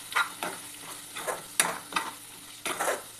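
A spoon stirs mutton curry base with salt in a pan, giving about six distinct scraping strokes with light sizzling between them and no talking.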